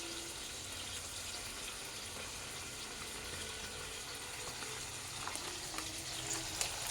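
Green chillies poured into hot oil in a home kitchen pan, a steady close fry with a constant crackling hiss and a few sharper pops toward the end.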